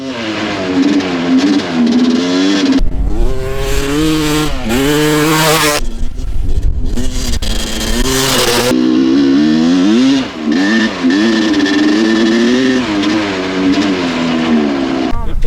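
A 250cc two-stroke vintage enduro motocross bike screams close by, revving up and down through gears with harsh, rising and falling engine pitch throughout.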